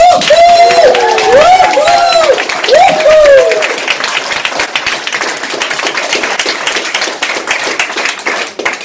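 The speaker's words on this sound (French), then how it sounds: "Et je vous demande de faire une ovation à Matara et Marcel" A seated audience gives an ovation, with dense clapping and whoops filling the room, loud and close at first and then settling into steadier applause under a shouted cheer.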